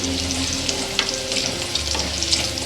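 Tadka for a simple dal sizzling and crackling steadily in hot oil, a close, dense frying hiss with small pops and light stirring scrapes throughout, no voices.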